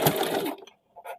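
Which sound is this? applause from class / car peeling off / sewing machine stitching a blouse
sewing machine stitching a blouse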